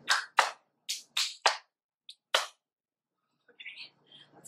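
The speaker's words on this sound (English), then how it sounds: "we're going to clap like a seal" First graders clapping like seals in a classroom, a handful of sharp, separate claps in an uneven rhythm, followed by quieter faint sounds and low murmuring toward the end.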